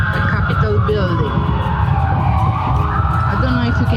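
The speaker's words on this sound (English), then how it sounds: "there's so many sirens, so many police cars" Police car sirens wailing on Pennsylvania Avenue in Washington, D.C., loud and continuous with rising and falling tones over dense city traffic noise.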